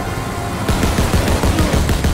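Mounted machine gun in Call of Duty WWII opening up from a moving vehicle, a loud rapid stream of close gunshots with low booming thumps, starting abruptly after a short stretch of rumbling engine noise.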